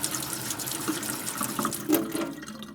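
Water streams steadily from an open kitchen tap left running after washing dishes, a continuous close splashing hiss with no voices.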